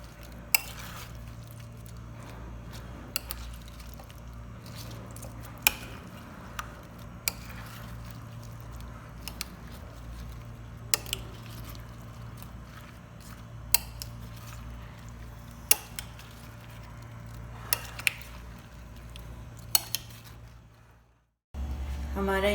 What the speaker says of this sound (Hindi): इसको हम मिक्स कर लेते हैं।